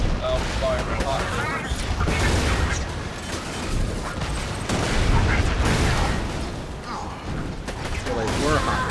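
Rapid gunfire and mechanical weapon clatter from the video game Borderlands, dense and loud with bursts, booms and ratcheting sounds layered over players talking.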